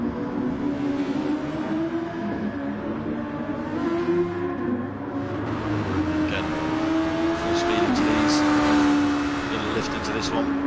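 A race car in a Super Formula series race brakes hard into a hairpin, its engine note dropping with steady loud droning tones and a downshift near the end, heard close and continuous under commentary.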